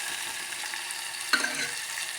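Chopped tomato frying in hot oil for a sambar tempering gives a steady, close sizzle throughout. A brief stir or clink sounds in the middle, with no talking.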